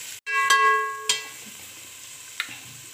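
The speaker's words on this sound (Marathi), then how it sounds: "तेलामध्ये चांगली परतून घेऊ" Coriander powder, garam masala and homemade masala sauté in hot oil, a soft sizzle under a few stirring clinks and scrapes, with a faint tonal whine fading early on.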